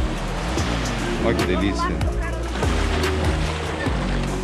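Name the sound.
waves on Camiranga beach, Ilha Grande, Brazil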